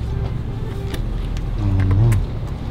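Jeep engine rumbling past at close range, a low, uneven drone that swells briefly toward the middle before cutting off, loud over background noise.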